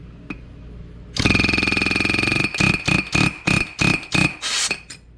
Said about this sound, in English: Once I get her shoved in there, I like to use the air hammer